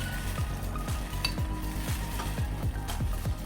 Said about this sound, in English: And then we're just gonna stir it.